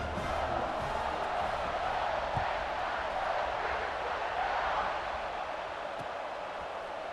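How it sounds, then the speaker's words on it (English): A stadium crowd buzzes in the EA Sports College Football 26 video game after a score, a steady, dense roar of many voices filling the whole stretch without pause. "this crowd is buzzing after that last score"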